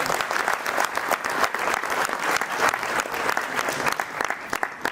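An audience breaks into steady, dense applause after a speech, loud and continuous for several seconds, with no voices standing out.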